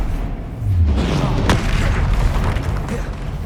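Expelliarmus is cast in the Hogwarts Legacy wizarding game, giving one sharp, deep magical blast in the middle over a rumbling battle background, with a voice heard alongside.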